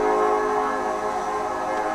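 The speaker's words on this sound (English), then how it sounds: "sorry for the train, guys." A passing train roars steadily and loud outdoors, a dense, continuous rumble with a sustained tonal hum running through the whole stretch and no voices over it.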